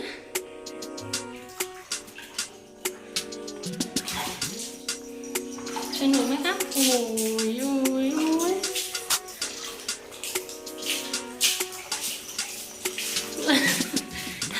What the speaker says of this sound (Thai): หนูว่ายน้ำเหรอลูก